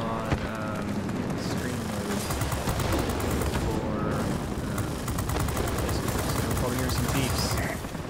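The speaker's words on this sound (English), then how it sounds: "So the guns are 50 cal machine guns." An F-84B jet's .50 caliber machine guns firing in the World of Warplanes air combat game, with rapid staccato bursts over a constant engine roar while a voice talks throughout.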